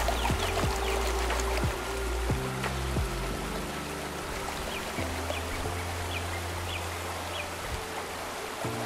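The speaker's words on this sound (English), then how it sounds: "Slightly shake your pan." An XP gold pan is shaken in stream water as sand slides out, giving continuous rushing, sloshing water with scattered low knocks and splashes throughout.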